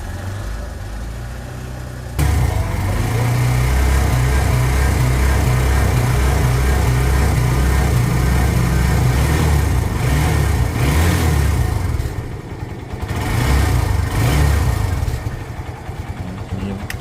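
A modified Barako 3 motorcycle from Tayabas, Quezon, runs with a loud, close, steady engine rumble that throbs unevenly throughout, with brief dips in level.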